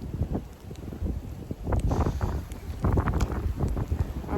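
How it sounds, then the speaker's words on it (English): Wind in a Texas snowstorm blasts the microphone in rough, rumbling gusts that swell and fade unevenly, close and fairly loud throughout. "It's getting windy"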